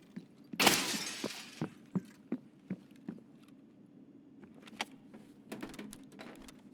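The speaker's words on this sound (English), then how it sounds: "You're gonna need to shoot the glass to get in." In the video game Escape from Tarkov, a loud burst of glass shattering is followed by a scatter of sharp clicks and small taps, with light ticking continuing under quiet ambience.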